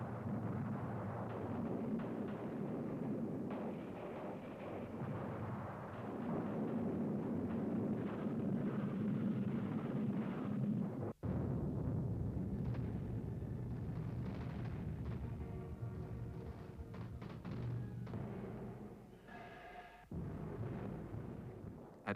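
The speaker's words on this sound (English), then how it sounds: "they unleashed a barrage of 600 guns and mortars" A massive barrage from about 600 guns and mortars as a battle opens, heard as a continuous roar of overlapping distant blasts and rumbling thuds, with sharper impacts rising later.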